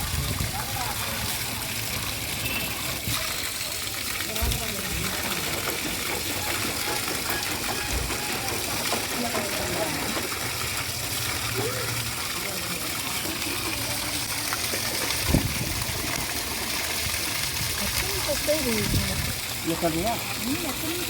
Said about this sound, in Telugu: నంది నోట్లో నుంచి ఎప్పుడు నీళ్లు వస్తూనే ఉంటుంది.